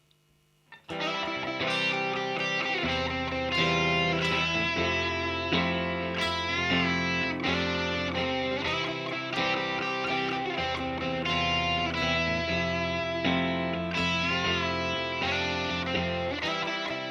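Chords from a song strummed on an electric guitar with effects and distortion, a full, dense sound that starts abruptly and keeps up a steady repeating rhythm, loud and close, with no talking.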